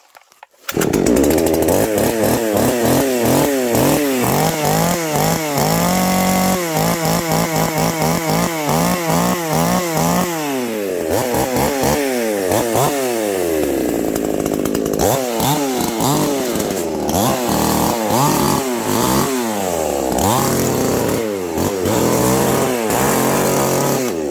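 Chainsaw running loud and close for the whole stretch, engine pitch rising and falling repeatedly as the throttle is worked, with no pauses and no talk.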